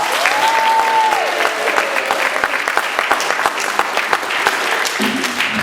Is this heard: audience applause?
yes